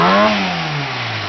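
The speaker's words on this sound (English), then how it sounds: "it lets these engines rev very quickly." Fiat 1800 engine fitted with a billet crank pulley and lightened billet flywheel, revving hard and close, the pitch climbing sharply then falling away as the revs drop back, heard alone without talk.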